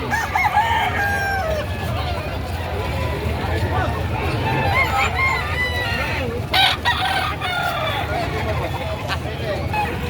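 A Talisayan yellow-leg game fowl rooster crows amid other chickens clucking at a busy poultry market in Padre Garcia, Batangas, with a constant hubbub of people talking nearby.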